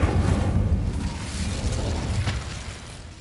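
An Incendio fire spell is cast in Hogwarts Legacy on PS5, giving a loud, broad rushing burst that starts at full strength and slowly fades over about three seconds.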